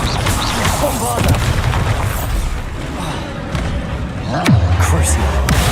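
Bombarda explosion spells in the wizarding game Hogwarts Legacy: several deep, heavy booms and thumps under constant spell effects and combat noise, loud and close, with a loud impact near the end followed by a low humming rumble.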